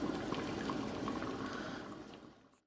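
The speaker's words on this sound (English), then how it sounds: "I'm just gonna let it boil and then I'll be finished" A pot of kitchri cooks on the stove with a steady, close bubbling and watery hiss that continues evenly and then fades out at the end, with no voices.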